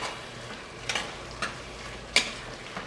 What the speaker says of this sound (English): Stir this on up.